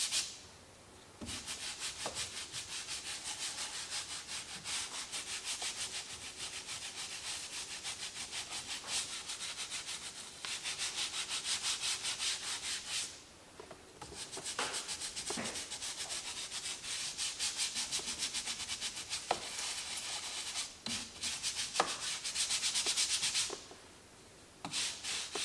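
A brush scrubs the steering wheel of a ZR1 Corvette during a pre-storage detail, making close, continuous rubbing and scratching strokes broken by two short pauses.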